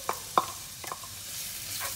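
Chopped onion and garlic hit hot butter and oil, with a few sharp clinks and scrapes over a soft, low sizzle, close by and without speech.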